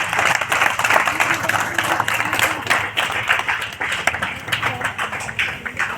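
A crowd claps steadily at a community team gathering, a continuous dense patter of many hands with slightly uneven rhythm, fairly loud and close, with faint voices mixed in.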